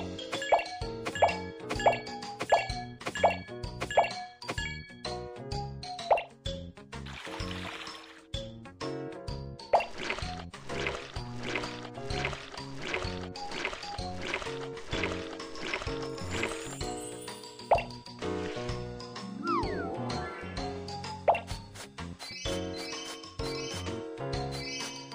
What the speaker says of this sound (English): Let's make soapy water together.